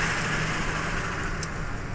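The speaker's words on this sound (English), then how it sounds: "There's all kinds of loud trucks up here." Loud trucks and other traffic roll along a road in Williston, North Dakota, making a dense, continuous roadside roar that stays steady and close throughout, with no talking.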